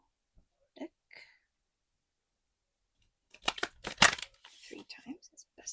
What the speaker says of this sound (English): I am going to shuffle deck